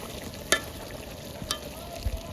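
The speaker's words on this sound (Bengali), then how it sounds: "এখন আমি কুপ্তাগুলো দিয়ে অল্প কিছুক্ষণ রান্না করলে হয়ে যাবে রান্নাটা" Egg koftas cook in a spiced curry with a soft, steady frying sizzle, broken by a couple of brief clicks and light knocks, close and without voices.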